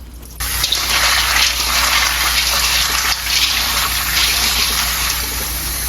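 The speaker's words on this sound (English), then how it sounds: "make sure you drain the water and rinse it one more time" Tap water gushes steadily into a kitchen sink while dried beans are rinsed, a loud, continuous splashing rush that starts abruptly and runs unbroken to the end, with no voices.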